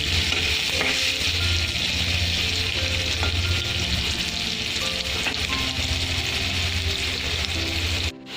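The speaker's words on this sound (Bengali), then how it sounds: "আলুটা একদম লাল করে ভেজে নিতে হবে।" Potatoes frying in hot oil in a pan, a dense continuous sizzle and bubbling that stays loud and close throughout, with faint stirring touches and no talk.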